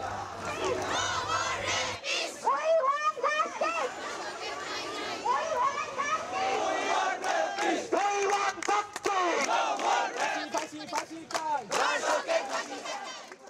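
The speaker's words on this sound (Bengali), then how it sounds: "ক্যাম্পাসের প্যারিস রোডে বিক্ষোভ মিছিল শেষে রাজশাহী নওগাঁ মহাসড়ক অবরোধ করেছেন তারা" A dense crowd of students on a protest march along Rajshahi university campus's Paris Road chants loudly and rhythmically in unison, voices surging and overlapping close by for the whole stretch.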